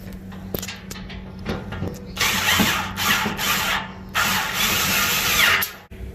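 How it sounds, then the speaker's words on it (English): Screws being tightened with a ratcheting tool while assembling a CharBroil Gas2Coal hybrid grill, close steady ratchet clicking in long runs with brief pauses over a faint hum. "There are 4 screws that you have to tighten in step 4."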